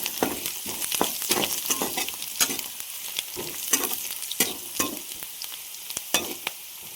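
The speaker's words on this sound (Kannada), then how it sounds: "ಸೊ ಸ್ವಲ್ಪ ಗರಂ ಮಸಾಲ ಇದನ್ನು ಚೆನ್ನಾಗಿ ಮಿಕ್ಸ್ ಮಾಡ್ಕೊಳ್ಳೋಣ" A mushroom masala fry with garam masala gets stirred in a pan, the spatula scraping in quick irregular strokes over a steady close sizzle.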